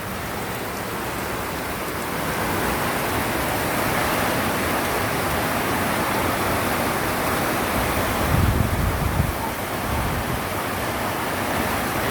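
Heavy rain pours down steadily in Montalban, Rizal, with rainwater running into a dug drainage channel, a dense continuous hiss that swells slightly near the end.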